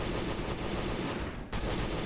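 Rapid video-game gunfire cut into zombies, a near-continuous loud stream of shots with a very brief break before the firing resumes at full intensity.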